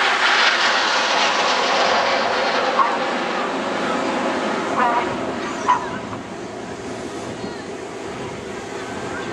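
Red Arrows jets performing a flying display at the Bournemouth Air Festival 2011, heard as a steady, broad roar of jet engines over the seaside, with a few sharper peaks and a voice talking over it.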